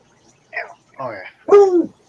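A dog barks three times in quick succession, short, moderately loud and fairly close, each bark rising in strength, with quiet pauses between.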